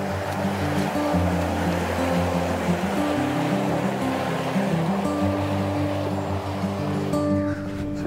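Steady, broadband rush of the River Caldew flowing along a Cumbrian valley, heard close by and continuous, with a low hum running underneath.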